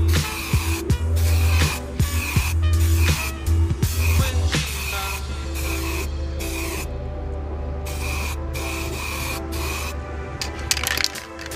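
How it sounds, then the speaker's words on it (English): Spray paint can hissing pink paint onto a computer monitor in repeated bursts, each a loud, close, broadband spray lasting about a second, with short gaps and a low hum underneath throughout. "then I'm gonna try to spray paint pink"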